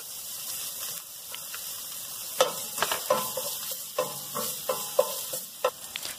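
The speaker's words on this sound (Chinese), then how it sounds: "轻热只锅之后，用中大火爆一爆片姜" Ginger slices and dried tangerine peel stir-fry in a hot wok over medium-high heat: a constant close sizzle broken by repeated scraping, tossing strokes of a spatula.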